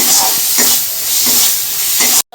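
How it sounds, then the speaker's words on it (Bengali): Tomato and ground spice paste fry in a pan for a fish-head, pumpkin, potato and cabbage curry, a steady close sizzle with three or four soft scraping stirs at regular intervals, cut off abruptly at the end. "কেটে রাখা একটা ছোটো সাইজের টমেটো, বেটে রাখা মশলার জল, এরকম ভালো করে কষিয়ে নিচ্ছি।"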